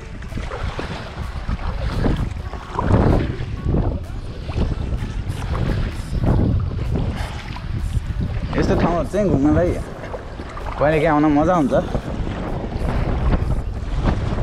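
Wind gusts buffet the microphone during kayaking on a river at Ballina near the Pacific Ocean, a rushing roar under continuous talking, with water sounds from the boat.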